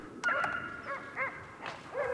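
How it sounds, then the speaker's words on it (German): Hunting dogs bay and yelp repeatedly during a winter driven hunt in snowy forest, several excited high-pitched barks and yips sounding from a moderate distance in irregular bursts. "Immer wieder Hundegeläut aus nah und fern"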